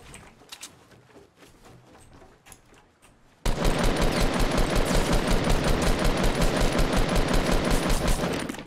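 Rapid automatic gunfire from the Fortnite Battle Royale video game bursts in loudly after a few seconds of quieter game sound, then continues as a dense, steady stream of shots to the end.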